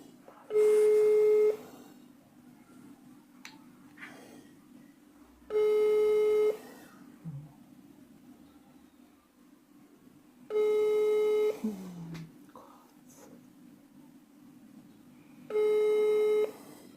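A telephone ringback tone on an outgoing call sounds four times as evenly spaced long beeps, about five seconds apart, with quiet background noise and faint murmuring between them.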